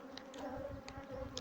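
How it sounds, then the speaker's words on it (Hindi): Angry honey bees buzzing steadily and close at a bee farm in Pakistan, a continuous droning hum with a few sharper passes, heard alone with no talking. "ये ओ हो, मक्खियाँ बहुत ज़्यादा गुस्से में हो गई।"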